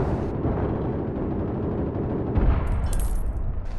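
Rapid automatic gunfire from the online shooter game APB Reloaded forms a dense, continuous, loud crackling roar that swells briefly near the end.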